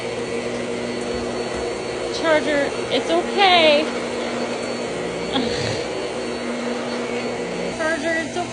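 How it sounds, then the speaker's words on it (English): A household vacuum cleaner runs with a steady loud whine and roar throughout, while someone talks softly over it and small squeaks from an animal come and go. "It's just the vacuum."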